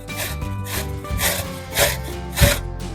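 Vegetables are grated by hand for low-carb rice, a series of rough rasping strokes against the grater, close and loud in an uneven rhythm with no one speaking.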